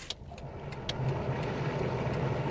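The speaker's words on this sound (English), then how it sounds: "It's idling at about 600 RPM right now, 550 RPM." A Nissan Maxima engine idles at about 550–600 RPM with the air conditioning switched on, a steady low hum running throughout with a few faint clicks above it.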